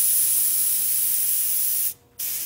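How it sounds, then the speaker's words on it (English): Paint thinner sprays in a steady, loud hiss onto a taxidermy form in a taxidermy shop, breaking off briefly near the end before resuming. "I'm doing nothing but spraying thinner"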